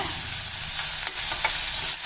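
Steady, dense sizzling of chopped large onions frying in hot oil with curry leaves, close up, with a few soft stirring scrapes near the middle and end.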